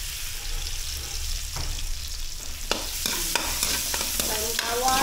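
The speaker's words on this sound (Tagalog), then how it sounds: "Gigisa tayo ng bawang." Garlic sautéing in cooking oil in a home kitchen pan, being stirred: a continuous close sizzle and crackle with scraping stirs and sharp spatter pops growing busier toward the end, no voices.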